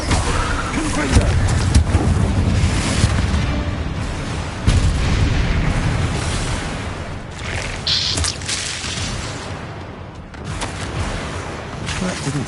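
Confringo blasting spell going off in a Harry Potter video game, a run of loud booming blasts and crackling bursts, with an especially heavy hit near the middle, layered over dense game noise.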